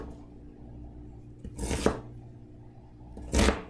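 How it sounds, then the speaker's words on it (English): A knife cuts through onions on a board in two separate short bursts of chopping, close and fairly quiet, with near silence between them. "I believe that's proper onion cutting technique, right?"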